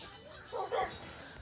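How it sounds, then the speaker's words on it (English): Dog in the video game Minecraft giving two brief close yips or whimpering barks in quick succession, with a player's voice around them. "Wait, I heard another dog."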